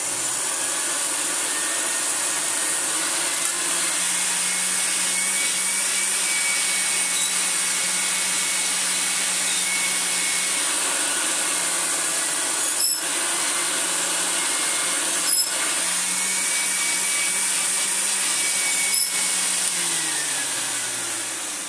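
A restored Hoover Senior 652a upright vacuum cleaner runs steadily with motor and brush roll whirring, a constant close drone with a low hum shifting slightly and a few brief clicks.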